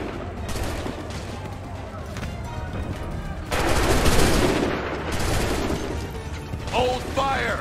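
Massed musket volley in Assassin's Creed 3, a dense crackling burst of gunfire that swells loudly midway through with mechanical clatter, sustained for several seconds amid battle noise.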